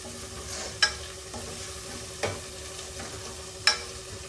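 Brinjal fries in a pan for a Tamil Nadu style mango sambar, with a continuous close sizzle broken by three sharp clacks as a spoon stirs against the pan, and no one talking.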